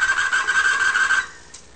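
Falex lubricant test machine with its bearing grinding under heavy load, a loud, harsh rasping screech with a steady tone that cuts off abruptly after about a second.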